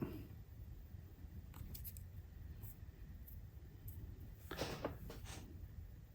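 Small snips are heard while a wire is cut during a DCC decoder install in an Athearn Blue Box SOO GP35 model locomotive. A few faint, sharp clicks stand out against a quiet background hiss.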